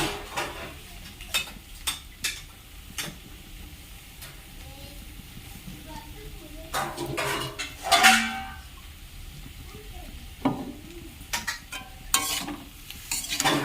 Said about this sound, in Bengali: একটু ভালো করে নাড়াচাড়া করে নিচ্ছি